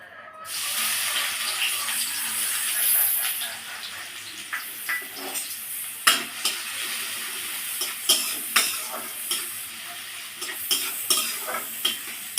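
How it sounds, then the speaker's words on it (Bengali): Chopped onions frying in hot oil, a continuous soft sizzle with regular scraping, stirring strokes against the pan, and no one talking. "পেঁয়াজটা আমি একটু বাদামি বাদামি করে ভেজে নেবো"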